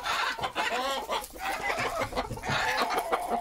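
A rooster and hens on a breeder's farm clucking close by, a busy overlapping chatter of short clucks and calls that runs throughout without a break.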